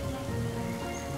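Sudden rain falls on a wetland lake, a steady dense hiss of drops hitting water that holds evenly from start to finish with no voices.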